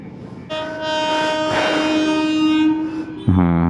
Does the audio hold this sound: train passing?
yes